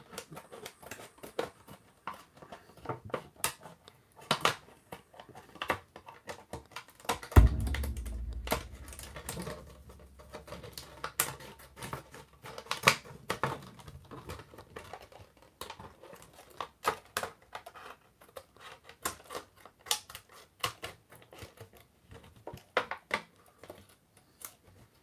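Small scattered snips and scratchy cuts sound as a blade works carefully around an old action figure package box, with one soft thump partway through, close and quiet with no talking.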